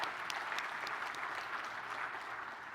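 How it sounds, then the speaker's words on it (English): Applause from a conference audience for the AV crew, a steady wash of many hands clapping at a moderate distance, sustained evenly throughout without voices on top. "let's give them a round of applause"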